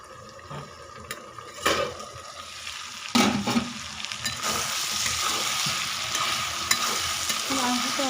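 Desi chicken being sautéed in a pan. A steady sizzle swells over time, broken by a few louder spatula scrapes and knocks early on, then settles into a dense, close frying hiss.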